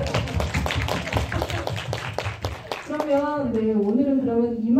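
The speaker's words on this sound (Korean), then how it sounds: "박수 한번." An audience at a film talk event claps in sharp, scattered bursts for nearly three seconds. A voice then speaks over the fading room.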